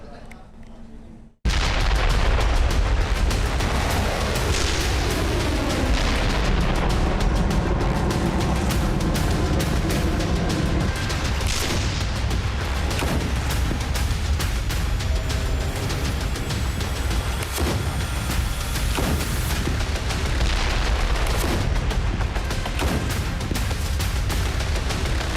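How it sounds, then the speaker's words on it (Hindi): Heavy artillery and tank fire in wartime Gaza, a dense rumbling barrage of booms and blasts that starts abruptly after a short quiet lead-in and stays loud and continuous throughout. "आग उगलती तोपें, दिन रात गरजते टैंक,"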